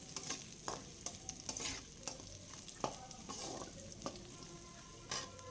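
Shallots and ginger fry in a pan for a coconut paneer masala, with steady sizzling broken by repeated scraping stirs of a spoon against the pan.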